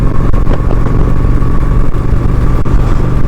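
Loud, continuous engine rumble and wind of a Honda Shadow 750 ACE cruiser being ridden, steady and close with no talking.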